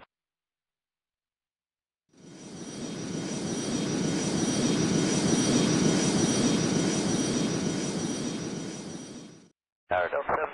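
Airbus A340 jet engines spool up for takeoff from Brisbane in the Airline Commander video game, a loud, steady broadband roar that starts suddenly and holds for about seven seconds before cutting off. A brief burst of other sound follows.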